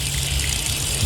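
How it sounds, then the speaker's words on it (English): Water pours in a steady gush to rinse a wine-stained carpet sample, a brief loud continuous splashing rush with no speech. "let's rinse and see what happens."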